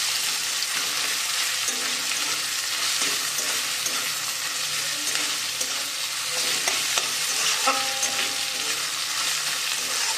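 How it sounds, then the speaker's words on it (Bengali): Garlic and green chillies fry in a pan while being stirred, a continuous close hiss of oil with intermittent scraping and clinking of the spoon against the pan, no talking. "এটাকে একটু নাড়াচাড়া করে নিই"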